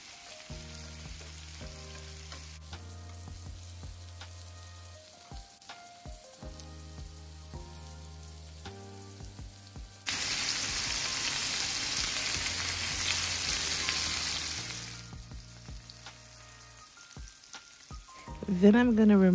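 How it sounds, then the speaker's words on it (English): Meatballs frying in a pan, a steady crackling sizzle that swells loudly for a few seconds midway as they are rolled over, with background music and a brief clatter near the end. "I'm just going to do that for a couple of minutes on each side, rolling it over and just making sure you get a nice little color on your meatballs"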